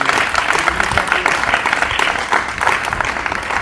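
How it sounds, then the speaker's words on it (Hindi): Sustained audience applause fills the room at a drama event, a dense, steady wash of many hands clapping at once, loud and close, with a few voices faintly mixed in. "मैं चाहूँगा सबकी तालियाँ"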